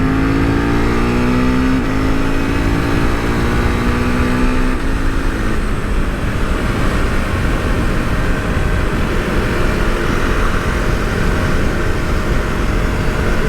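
A Husqvarna Svartpilen 401 motorcycle accelerates hard, its engine note climbing steadily through the revs with a couple of quick gear changes early on. It stays loud and close throughout, and no one talks over it.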